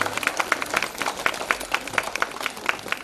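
An audience clapping for children at a festival dance performance, a continuous dense patter of many hands, moderately loud and steady throughout.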